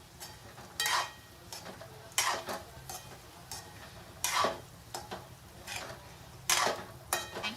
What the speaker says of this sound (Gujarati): અને આપણે સારી રીતે મિક્સ કરી નાખશું.